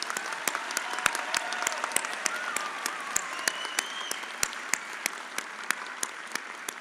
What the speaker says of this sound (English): let's give these graduates a big round of applause